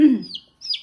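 Two small, high chirpy clucks from a newly hatched chick, close by, separated by a brief pause.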